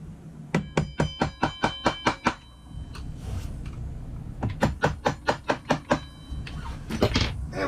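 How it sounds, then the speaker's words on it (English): A winch handle used as a hammer bangs on a Barient 23 sailboat winch in two quick runs of sharp metallic strikes, close and loud, with a quieter pause between the bursts. "I'm going to use my winch handle here, my all-purpose hammer."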